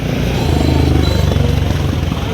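Motorcycle engine in busy traffic at Chaityabhoomi, Dadar, Mumbai, a loud, close, steady pulsing drone with a constant rumble and traffic noise blended together.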